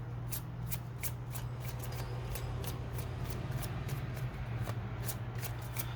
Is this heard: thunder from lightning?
no